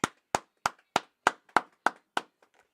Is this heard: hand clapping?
yes